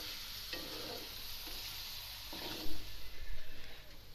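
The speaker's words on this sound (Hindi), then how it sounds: "प्याज को गोल्डन ब्राउन करेंगे।" Onions frying toward golden brown for chicken karahi, a continuous hiss of sizzling oil with a few stirring bursts near the end.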